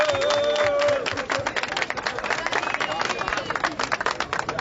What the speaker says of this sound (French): Je vous demande d'applaudir Nathalie Yamb.